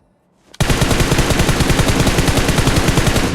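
Automatic gunfire in PUBG Mobile, a sudden loud, close burst of rapid, evenly spaced shots that keeps hammering without pause after a brief quiet start.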